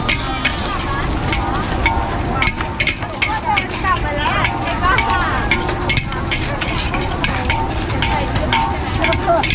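Noodles are stir-fried without oil in a wok at a busy street food stall, with a metal spatula scraping and clanking in quick, irregular strokes over a loud sizzle while people talk nearby.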